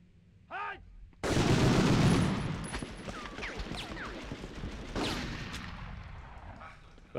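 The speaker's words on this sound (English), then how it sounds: "Who else is shooting?" Gunfire in the Medal of Honor video game: a sudden burst of shots bursting in after a quiet moment, dense overlapping reports with a second loud volley, fairly close and loud, with a voice heard briefly.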